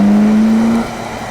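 A supercar engine on a race track pulls hard with a steady rising drone for nearly a second, loud and close, then drops away to a quieter rumble.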